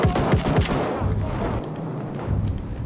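A Selbstlader 1906 semi-automatic rifle fires in Battlefield 1. A quick run of sharp, loud shots comes first, then the echoing tail fades under scattered distant battlefield fire.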